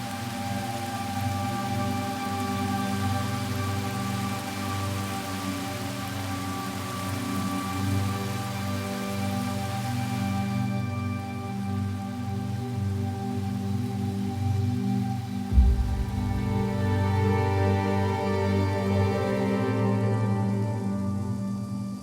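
Heavy rain pouring over a high-altitude wetland, a steady dense patter of drops on water and ground under a low rumbling bed, with a deep thump partway through.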